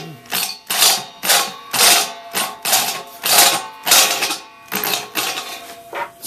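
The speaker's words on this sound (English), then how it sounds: "Step bit I'm using is one I bought at Harbor Freight." A step drill bit from Harbor Freight cuts a hole, making repeated loud, close, grinding bursts about every half second, pulsing in rhythm with pauses between them.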